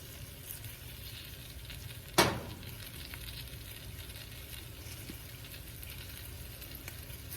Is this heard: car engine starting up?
no